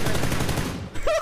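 Rapid automatic gunfire in PUBG: a fast, evenly spaced burst of shots, loud and close, that stops abruptly near the end.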